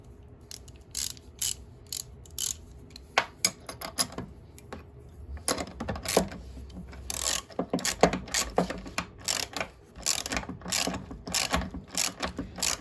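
A hand ratchet clicks in short bursts while tightening a bolt during a pulley upgrade on a Toro Timemaster Commercial lawn mower, quiet rapid pawl clicks that grow louder and denser toward the end.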